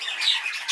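An exhibition budgie, a grey-green bird in a breeding room, squawks in harsh, bright bursts throughout, with louder calls near the start and end and no voices.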